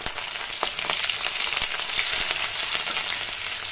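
Chopped onion frying in hot oil with nigella seeds for a cauliflower dish, a dense, steady sizzle close up with faint stirring clicks throughout.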